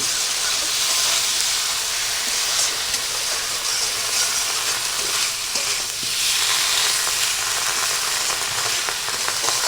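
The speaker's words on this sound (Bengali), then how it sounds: "এইবার আমি মশলা দিয়ে আলুগুলো ভালো করে কষিয়ে নিচ্ছি" Potatoes fry with spices in a pan, a loud, dense and continuous sizzle with steady hiss and faint stirring throughout, no voices.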